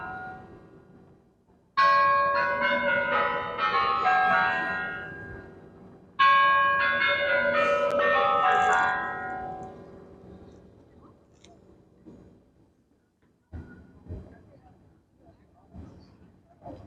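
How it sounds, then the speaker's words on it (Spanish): Church bells near the Moscow Kremlin ring out loudly in two long, clanging peals that swell and slowly fade, followed by a few faint scattered knocks and quiet background. "Ahora tocan las campanas."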